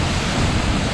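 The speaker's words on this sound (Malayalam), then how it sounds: "അപ്പൊ ഗൈസ് നമ്മളിതാ ചൂരൽ വെള്ളച്ചാട്ടത്തിൽ എത്തിയിരിക്കുകയാണ്." Chooral waterfall sends cold water rushing down in a loud, continuous broadband roar, heard up close for a brief moment with no voices.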